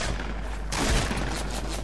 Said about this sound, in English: I'm getting shot in the back, Harris.